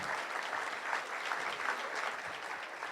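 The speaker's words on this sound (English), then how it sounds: "give yourself a round of applause" A conference audience gives a round of applause to long-term nomads, a soft, even wash of many hands clapping at a distance, steady and unbroken with no talk.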